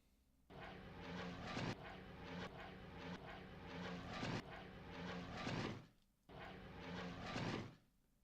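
Tactical bombers fly across in a video game with a loud, steady drone of aircraft engines, broken into repeated swells that each cut off abruptly, with no talking.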